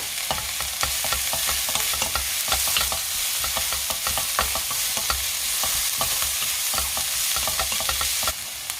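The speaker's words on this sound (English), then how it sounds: "Keep stir-frying until all the vegetables became soft." Soy sprouts and vegetables are stir-fried in a hot pan for noodles. A loud, continuous sizzle runs throughout with rhythmic scraping and clinking as a utensil stirs, and no one speaks.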